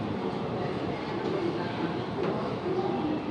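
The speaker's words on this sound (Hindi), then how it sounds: "हाँ शिवनाथ एक्सप्रेस है वो, जो बिलासपुर से नागपुर के बीच में चलती है" The Shivnath Express, a passenger train running between Bilaspur and Nagpur, makes a continuous broad, muffled rumble that holds steady throughout, with faint background voices mixed in.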